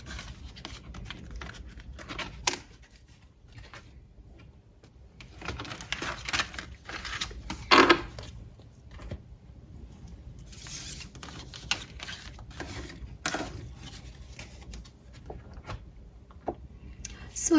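Tarot cards are handled, gathered and removed from a reading spread. Soft shuffling, rustling and light sliding sounds run through the clip, close and fairly quiet, with brief sharper flicks and no clear talking.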